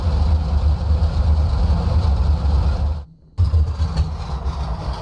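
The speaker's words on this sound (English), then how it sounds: "Rather abrupt change in sounds there as the engine cuts" A P-47D Razorback aircraft engine idles with a steady low rumble in a flight simulation, then cuts off abruptly to near silence for a moment before the ambient cockpit sound returns.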